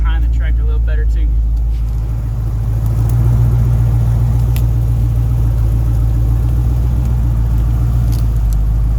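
A second-generation Ram pickup truck engine rumbles steadily at close range as it squeezes through a yard near a Kubota tractor during a recovery, with a low continuous drone throughout and a voice briefly speaking at the start.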